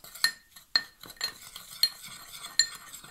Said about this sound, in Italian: Ok, mischio tutto, sentite già come friggia